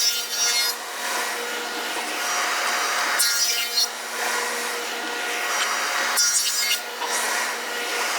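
A wooden kitchen board is fed through a thicknessing planer, giving a loud, steady machine whine and cutting roar in three long passes separated by brief dips as the board is run through again.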